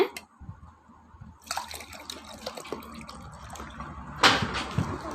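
Hot water pours in a steady trickle, close and soft, with a brief louder splash near the end and no voices.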